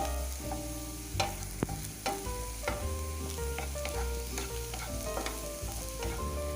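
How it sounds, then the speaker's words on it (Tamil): Garlic cloves fry in a pan for garlic pickle, a loud continuous sizzle broken by irregular stirring clicks and scrapes of a utensil, heard close with no voices. "பூண்டில் இருக்கிற ஈரத்தன்மை போகிற வரைக்கும் நல்லா நம்ம வதக்கணும்."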